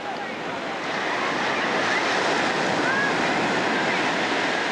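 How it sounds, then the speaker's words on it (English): Ocean waves break steadily on a beach, a continuous loud rushing surf wash with no pauses. "Whew, boy, a lot of waves."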